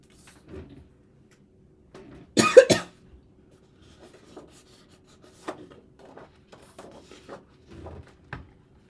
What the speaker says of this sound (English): I just had to grab a quick drink so I could stop coughing there